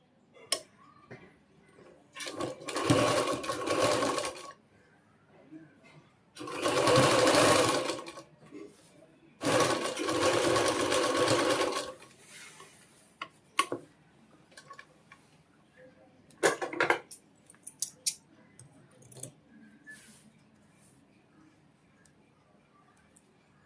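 A sewing machine stitching lace onto trousers, running in several loud, steady bursts of a few seconds each, separated by pauses with scattered clicks and handling taps.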